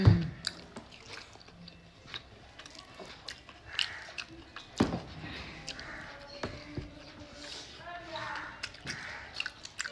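Someone eating food with red curry: soft, close, wet chewing and mouth sounds in irregular bites, quiet and intimate, with light clinks and a little background noise.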